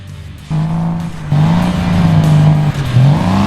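Speeding cars race along the Autobahn in a PC driving game, engines revving loud and close with rising pitch sweeps and a squeal of tires as gears shift.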